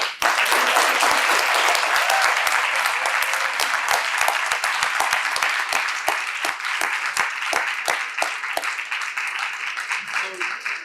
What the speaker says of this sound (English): If we can have one more round of applause for our...